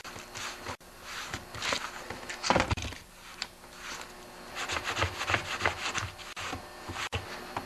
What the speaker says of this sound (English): I'm just going to start by cleaning the bar here with a rag first